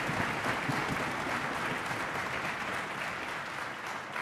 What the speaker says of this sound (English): Can we give a round of applause for all of the partners that we have,